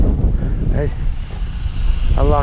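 Steady wind rumbles and buffets the microphone throughout during a night snowstorm, a loud low roar, with brief bits of voice breaking through.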